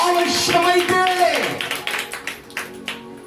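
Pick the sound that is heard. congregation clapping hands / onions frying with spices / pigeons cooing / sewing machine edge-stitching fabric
congregation clapping hands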